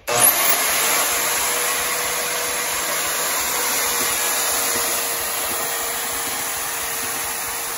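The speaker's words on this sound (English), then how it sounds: "I'm just going to cut a piece of 1 8 aluminum, use the switch." Milwaukee portable bandsaw cutting a piece of 1/8 inch aluminum, a steady loud whine and blade hiss starting abruptly and holding continuously, with no talk.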